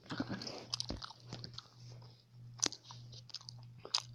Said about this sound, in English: Chew gum and record